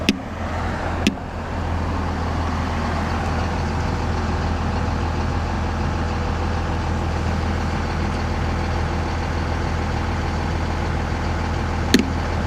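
Motor traffic drones along a two-lane road beside a cyclist commuting home. A steady car and truck engine hum holds throughout, with brief sharp knocks near the start and end.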